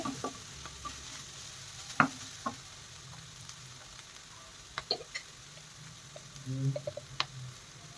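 Low, steady frying hiss of spices tempering in a pan with capsicum, broken by scattered sharp pops and clicks and a few scraping stirs, with no talking.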